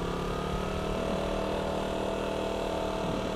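A motorcycle engine shifts up to second gear, a steady close drone that holds at an even level without pause.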